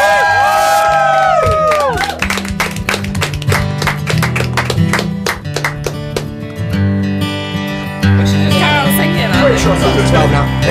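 Loud crowd cheering, whooping and clapping fills the studio at the close of the final hour of Fuse FM's radio broadcast, with excited voices and shouts layered throughout.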